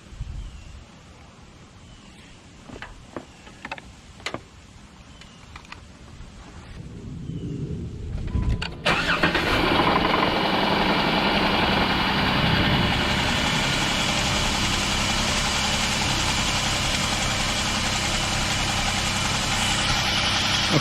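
A cold car engine is cranked and starts up, then settles into a steady, loud idle with a broad rumbling hum that runs unbroken to the end, after a few quiet clicks and handling sounds.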